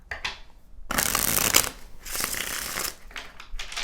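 Tarot cards are shuffled and pulled close by in a few quick bursts of riffling and sliding, with brief pauses between them and no talking.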